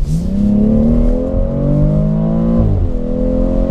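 A BMW X3 M40i SUV's engine revs hard while driving, loud and close, with rising harmonic tones climbing, dipping at a gear change, then climbing again.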